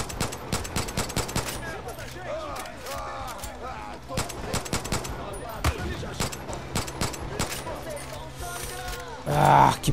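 Gunfire in the video game Far Cry 5 comes as rapid, sharp bursts of shots throughout, mixed with other game sounds and voices.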